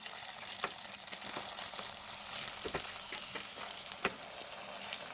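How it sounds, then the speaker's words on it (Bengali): Soybean koftas fry in hot mustard oil in a pan, giving a steady, quiet sizzle with scattered crackles and pops and no voices. "আমি এখানে সর্ষের তেলে কোপ্তাগুলোকে ভাজছি"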